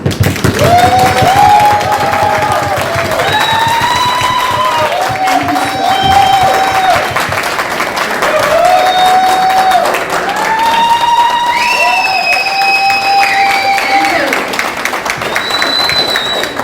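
A keynote speaker's audience at a speech contest gives sustained clapping and crowd noise. Cheering voices rise and fall over it, and the sound stays loud and continuous throughout.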